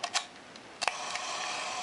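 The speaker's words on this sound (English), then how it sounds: "when the shutter actuates, the mirror comes back down" Nikkormat FTN 35mm film camera firing on its self-timer with mirror lock-up: a couple of faint early ticks, then a sharp mechanical shutter clack with the mirror returning, close and alone.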